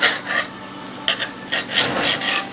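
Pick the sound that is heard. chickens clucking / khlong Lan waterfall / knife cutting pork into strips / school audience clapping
knife cutting pork into strips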